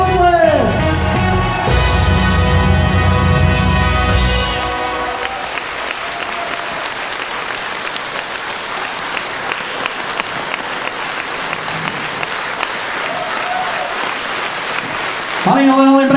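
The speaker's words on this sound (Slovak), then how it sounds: "Priatelia, za vášho veľkého potlesku." A concert crowd in Topoľčany applauds at a 2022 CD launch show, starting under music and loud voice, then long, dense, even clapping with a brief sound at the end.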